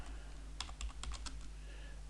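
Computer keyboard typing while entering a formula into a JupyterLab notebook cell: a quick cluster of about half a dozen crisp, close key clicks in the middle of a quiet room, with no talking.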